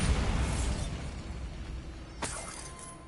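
Bombarda spell explosion in the video game Hogwarts Legacy, inside a cave: a heavy rumbling blast fading out, then a sharp shattering crack of breaking rock and trailing debris, loud and with no speech.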